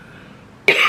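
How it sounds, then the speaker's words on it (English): A single sharp cough bursts in near the end after quiet room tone, loud and close, with a throaty rasp. "We all cough,"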